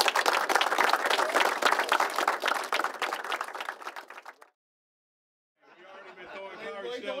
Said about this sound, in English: Clap it up for yourselves.